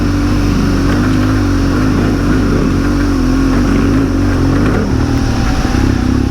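A Harley-Davidson Pan America motorcycle on an enduro trail holds a loud, steady engine drone close by, with a slight change in pitch as the throttle shifts near the end.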